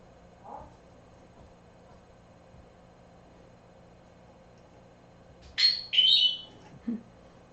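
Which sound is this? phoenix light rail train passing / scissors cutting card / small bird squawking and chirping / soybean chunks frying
small bird squawking and chirping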